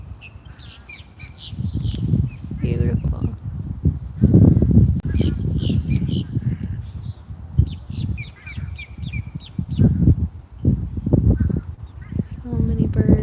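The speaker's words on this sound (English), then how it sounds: "Ooh, I found this big flock of birds." A big flock of crows or similar birds caws and honks outdoors on a walk among trees, loud, close and nearly continuous in overlapping calls, with a brief spoken word heard once.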